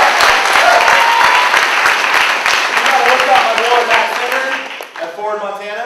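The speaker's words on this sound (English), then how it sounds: "we have a round of applause for Montana people" Brisk applause from a live audience fills the room, loud and dense at first, then thinning out as a voice begins speaking near the end.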